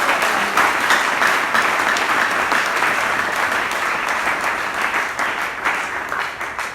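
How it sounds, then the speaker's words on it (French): A church congregation applauds and cheers, a dense, sustained wash of clapping that fills the room at a steady loudness with no speech on top. "Est-ce que quelqu'un peut acclamer?"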